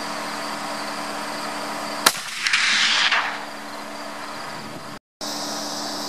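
A single shot from a Remington 700 Ultimate muzzleloader loaded with 130 grains of Blackhorn 209 powder, fired at a 100-yard target, comes as one sharp outdoor crack followed by a second of rushing noise against a steady background hum.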